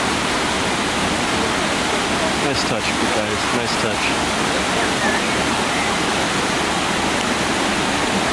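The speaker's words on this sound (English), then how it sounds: "Look at where this river starts from." Steady broadband rush of a river or stream flowing along a theme park trail, close and continuous, with someone speaking briefly over the water.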